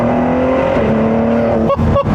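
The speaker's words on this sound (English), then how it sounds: "So I'm gonna floor it here real quick" A Ford GT accelerating hard at full throttle, its engine note climbing steadily and loud and close, with two brief dips near the end as the gears shift.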